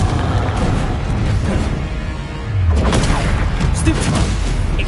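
A loud Confringo fire spell blast in Hogwarts Legacy erupts amid dense, rumbling combat noise with repeated booms and bursts during a spell duel, continuous and close throughout.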